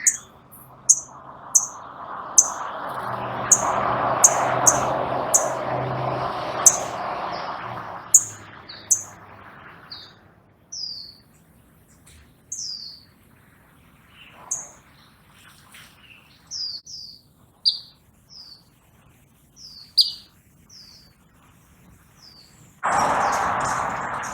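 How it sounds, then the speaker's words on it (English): Several small birds chirp and tweet in short, scattered calls while hopping around a pomegranate tree, with a broad rustling wash in the first ten seconds and a brief loud burst at the end. "So here you can see multiple birds on the pomegranate tree, and they're just jumping around,"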